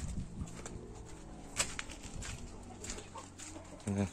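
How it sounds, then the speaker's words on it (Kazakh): Chickens cluck and murmur in a coop whose roof is being opened up and dismantled, faint farmyard sounds with scattered knocks and rustles, no one speaking. "тауықтар"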